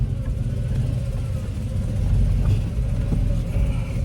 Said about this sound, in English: we pulling into the garage now